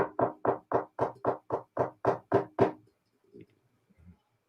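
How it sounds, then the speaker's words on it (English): Ten loud, evenly spaced knocks land right beside a microphone in a steady rhythm, followed by near silence with a couple of faint, soft bumps. "can you hear the knocking?"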